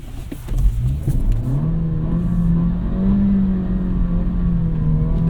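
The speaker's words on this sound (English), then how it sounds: "See if we can do a rear wheel drive burnout" An Acura Integra engine revs hard in the snow during a rear-wheel-drive burnout or donut attempt, a loud, steady rising drone held for several seconds without talk.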